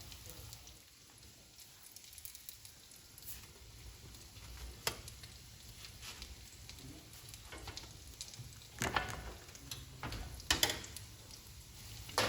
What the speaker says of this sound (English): I'm gonna go ahead and let those cook for a couple more minutes on that side.